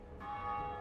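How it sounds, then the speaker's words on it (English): A church bell rings in Dark Souls, one sustained metallic strike with a bright, lingering hum that swells and rings on steadily with no voices over it. "Once you ring both bells"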